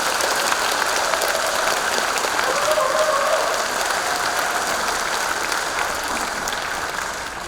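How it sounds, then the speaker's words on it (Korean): Applause from a large crowd of citizens welcoming the mayor at a Gwangyang city public briefing, a loud, dense, rain-like roar of clapping that holds steady and then slowly fades. "시민 여러분, 박성현 시장님께 힘찬 박수 부탁드립니다"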